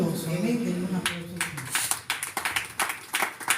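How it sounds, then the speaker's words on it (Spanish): Church congregation claps after a Spanish sermon, the applause starting as a scattered patter and growing into uneven, distinct hand claps that rise and fall in bursts, following a stretch where a preacher's voice fades. "Den un aplauso."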